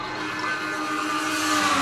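A race car engine roars at high revs during a race in a 1975 animated film, a loud, steady drone that builds slightly over two seconds, with a possible engine fault and no talking.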